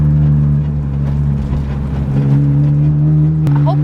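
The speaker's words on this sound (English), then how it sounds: "Yeah, my car sounds good. Like, you don't hear no issues, no rub. It's just driving." Steady, loud engine drone from inside a lowered stance car cruising along, with a constant low hum and a brief sharp knock near the end.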